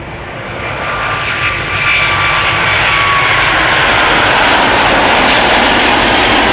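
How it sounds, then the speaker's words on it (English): Airbus A350 XWB jet engines at Schiphol Airport roar steadily and loudly, a broad rushing whine with a faint high tone, building slightly in the first seconds then holding constant. "Let's look and listen to those XWBs growling away in a few moments."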